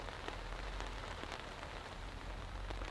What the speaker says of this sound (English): It's definitely raining though.